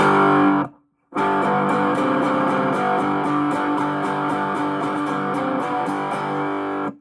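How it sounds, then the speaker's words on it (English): A cigar box guitar with a hot humbucker pickup and heavy distortion rings out loud, sustained chords, with a brief silent break near the start before the gritty strumming resumes. "Let me dial down some of the distortion because this pickup is hot."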